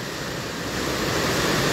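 The Bah Bolon river in Pematang Siantar rushes past as a loud, steady broadband roar of flowing water, continuous and close with no pauses.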